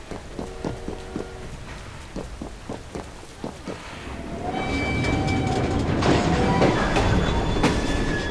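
A train runs on rails in Assassin's Creed Syndicate, set in Victorian London: rhythmic clickety-clack of wheels over rail joints gives way to a louder, sustained rumble with high metallic squeals.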